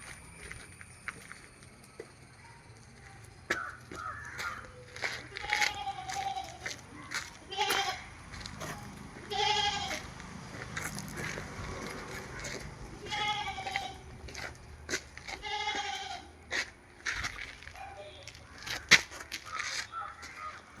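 Goats at a livestock sale in Manjeri, including a four-month pregnant doe, give scattered, fairly faint bleats across the clip while someone talks.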